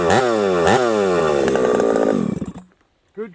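A ported Husqvarna 371XP chainsaw revs hard in the woods, rising in pitch twice, holding a loud steady scream, then dropping off abruptly to near silence before a short blip at the end.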